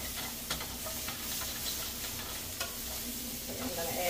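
Chickpeas toasting in a pan give a steady close sizzle and frying hiss, with occasional stirring scrapes and no talk.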